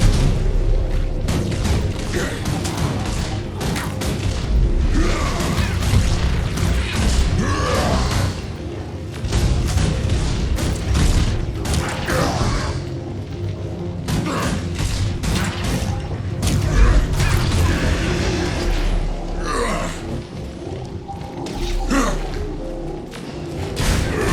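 Rocket punch attacks in a video game set off a steady barrage of heavy booms, thuds and crashing impacts, loud and continuous with mechanical clanks running throughout.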